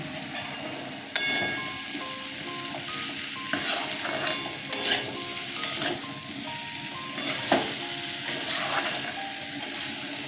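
Drumstick and potato curry with mustard sautéing in a pan: a constant close sizzle with repeated scraping stirs and occasional clinks of a spatula against the metal, no voices.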